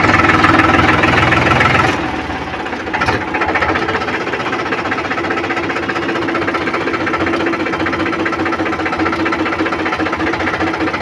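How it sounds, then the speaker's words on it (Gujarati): A farm tractor climbs a steep slope in a field, its engine droning steadily. The engine is loud at first, then settles to a slightly lower but continuous labouring rumble, with no talk over it. "હવે જોઈ શકો છો કેટલું ટ્રેક્ટર આગળ ઉપડી જાય છે"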